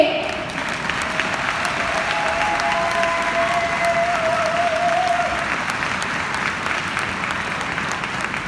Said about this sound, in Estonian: Ja nüüd tehke üks suur aplaus.